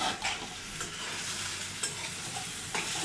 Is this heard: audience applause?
no